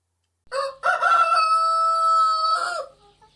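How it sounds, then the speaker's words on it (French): A rooster crows once, loud and close: a short opening note, then a long sustained cry that holds steady and falls away at the end. No other sound is heard. "un coq chanta."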